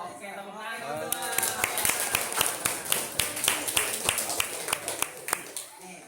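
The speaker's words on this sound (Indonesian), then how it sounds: "Oke, tepuk tangan" A small group at an Indonesian school socialization session on Qurban claps in rhythmic unison, sharp regular claps at close range, while voices chatter and speak over them.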